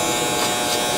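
A Victor electric hair clipper cutting a low fade, its loud steady motor buzz continuous and close throughout, with no voices.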